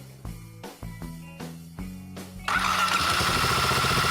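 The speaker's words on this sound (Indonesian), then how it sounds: "kita nyalakan kembali mesin kali ini selama 10 menit. Cukup idle aja, nggak perlu buka tutup gas." A motorcycle engine, running with engine flush fluid added to the oil, is cranked over several times with the starter. It then catches and settles into a steady, loud, close idle with no throttle blips.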